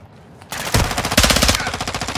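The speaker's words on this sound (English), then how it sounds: "Taking effective fire!" Rapid automatic gunfire from the Call of Duty DMZ video game, loud bursts of close shots rattling almost continuously after a brief quieter lead-in, with no talking.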